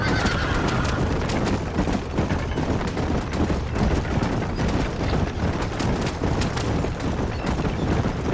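A horse in the Red Dead Redemption video game whinnies over a dense, rapid clatter of galloping hooves that stays loud and continuous throughout.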